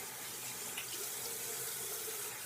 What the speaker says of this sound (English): I take my hands and I just splash water on my face real quick.